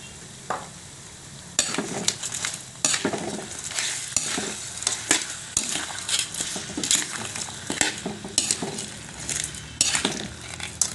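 Shrimp and crabs with garlic and butter fry in a pan while a utensil stirs them, giving repeated scraping and clinking strokes over a steady sizzle.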